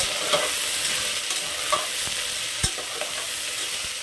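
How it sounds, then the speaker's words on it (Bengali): Carrots and other vegetables for methi pulao fry in a pan with a continuous, fairly loud sizzle. Occasional sharp spatula scrapes and knocks punctuate the sizzle, and there is no talking. "এগুলো এবার আমি খুব ভালো করে ভেজে নেব"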